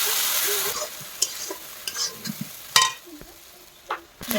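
Ginger, garlic and green chilli paste sautéing in oil in a pan, a soft sizzle that fades as a spoon scrapes and stirs with scattered clinks and knocks, no voices.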